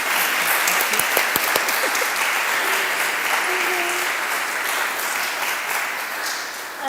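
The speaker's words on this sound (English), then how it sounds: "I think we can give Nicola another round of applause." An audience at a museum network talk claps for several seconds, a dense patter of hands that tapers off gently toward the end, with no voices over it.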